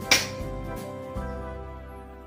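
A single sharp clap from students in a classroom: one quick, fairly faint smack at the start, followed by a quiet room hum.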